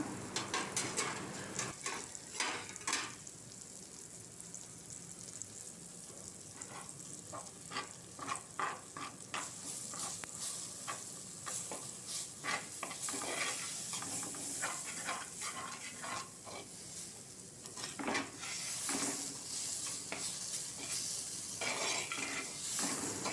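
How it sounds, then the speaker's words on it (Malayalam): Chili, turmeric and asafoetida powders fry in hot oil for a Wayanad-style sardine curry, giving a steady crackling sizzle with repeated stirring scrapes and clinks of a utensil against the pan, no voices. "മുളക് പൊടി മഞ്ഞൾപ്പൊടി ഒരിച്ചിരി കായപ്പൊടി ഇതെല്ലാം കൂടി ഇട്ടിട്ട് നന്നായിട്ട് പൊടിയൊന്ന് മൂപ്പിച്ചെടുക്കാം"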